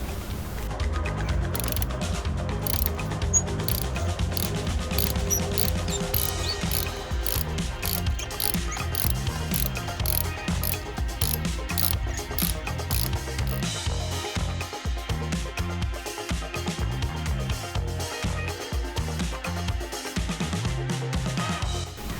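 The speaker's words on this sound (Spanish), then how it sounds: "ahora ya ponemos nuestra carraca y aflojamos" Ratchet wrench loosening a spark plug on a BMW E60 5 Series with the N53 engine: dense rapid clicking of the pawl runs continuously and loud, close up, with no talking.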